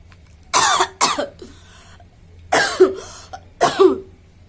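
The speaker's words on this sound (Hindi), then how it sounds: "बहुत खांसी आ रही है।" A woman gives a run of sharp, forceful coughs in two close pairs, loud and near, separated by brief pauses, with no speech between them.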